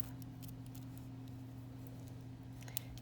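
Small scissors snip nail art material such as transfer foil or elastic strip in a few quick, faint cuts over a steady background hum, close to the microphone.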